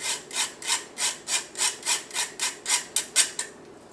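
Back of a spoon pushing chocolate cake mixture through, giving about a dozen steady, evenly spaced scraping strokes, close and clear with no talking.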